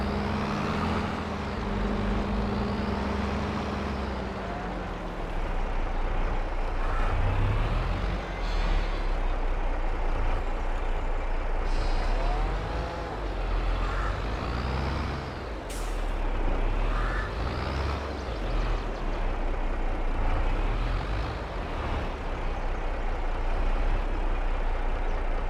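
A mixer wagon churning a feed load in Farming Simulator 22, a continuous loud mechanical drone with engine rumble and rising, falling grinding swells, punctuated by a brief hiss, running steadily with no talking.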